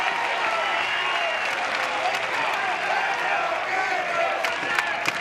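An overflow crowd at an NCAA baseball super regional Game 3 between Oregon State and Florida State, applauding and cheering loudly and steadily from packed stands, with a voice faintly underneath.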